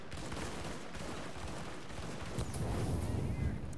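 A dense, crackling burst of gunfire from The Division's Dark Zone rattles on continuously, loud and close, swelling toward the end, with a voice faintly underneath.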